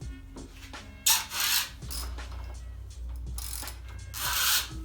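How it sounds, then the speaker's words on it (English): Fork top caps loosened on a Honda CB600 Hornet F3 motorcycle: close, distinct ratchet clicks and metallic rubbing in two bursts, over a steady low background hum. "just lightly undo the top caps"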